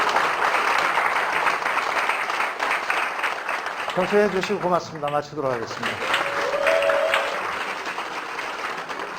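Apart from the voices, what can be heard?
audience applause after a lecture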